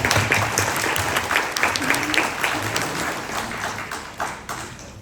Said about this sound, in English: I wanted to give a round of an applause to my fellow panelists